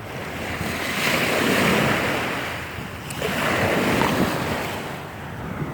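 Ocean waves wash up onto a beach in two long, loud surges, each swelling and then receding, with steady wind noise buffeting the microphone and no voices.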